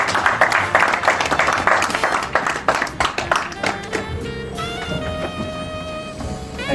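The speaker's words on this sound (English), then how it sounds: "can you please give it a massive round of applause when he comes up" A crowd applauds a guest speaker at an education talk with a dense patter of claps that gradually thins, giving way to sustained musical tones and a steady backing bed.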